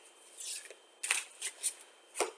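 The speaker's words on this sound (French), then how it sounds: "L'oracle de la fleur de vie. On va tirer une carte" A card is drawn from an oracle deck, giving soft papery swishes and several sharp, close flicks and slides in quick succession with no voice.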